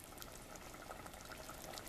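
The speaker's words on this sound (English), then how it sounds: "the sauce is boiling away" Sauce boils in a pot, giving a steady, dense bubbling and hissing that holds even and fairly faint throughout, with no talking.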